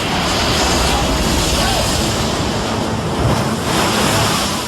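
Ocean surf from tsunami waves, a loud, continuous broadband roar of rushing water with wind-like hiss, steady throughout without distinct breaks.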